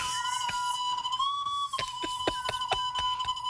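A sustained, fairly loud whistle holds a steady pitch, rises slightly partway through, then settles back. Sharp, rhythmic clicks and knocks punctuate it throughout.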